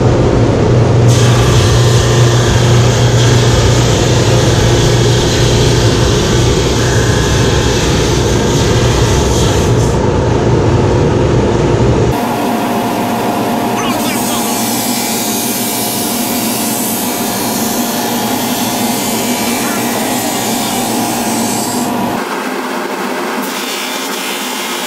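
A SuperMax 25-50 drum sander runs on a wood slab with its dust collection system, a loud steady roar of motor and airflow that holds throughout and shifts to a thinner, lower-level whine partway through, with no voices.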